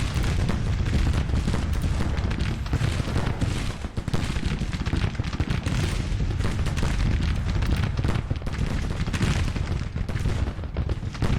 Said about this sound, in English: Alright, now those guns are firing.